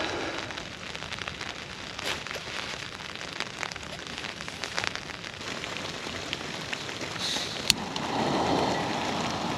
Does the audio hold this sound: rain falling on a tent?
yes